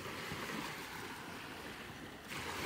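Strong sea waves surging and washing steadily, heard from a boat out on the water, with a wind-buffeted rush that stays loud throughout and swells again near the end.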